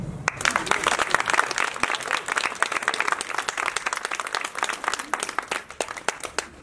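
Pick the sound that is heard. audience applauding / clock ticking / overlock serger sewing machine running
audience applauding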